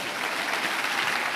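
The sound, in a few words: church congregation applauding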